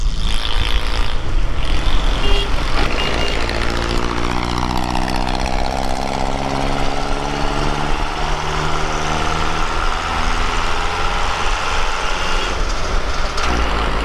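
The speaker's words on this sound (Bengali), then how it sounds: "মনে হচ্ছে হেলিকপ্টার যাচ্ছে।" An aircraft passes overhead in a Karachi street scene, its engine drone loud and continuous throughout, with a sweeping pitch shift as it approaches and moves away.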